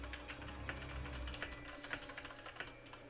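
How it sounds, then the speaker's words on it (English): Rapid clicking of fingers typing on a computer keyboard, steady and fairly close, layered over a constant background hum with no talking. "I know you guys can hear me typing"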